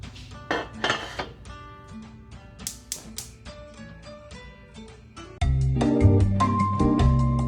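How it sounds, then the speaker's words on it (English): Metal clanks and clinks of a pot being handled, followed by a steady rush of tap water pouring in for boiling potatoes, loud and close. "We'll fill up our pot to get some water boiling."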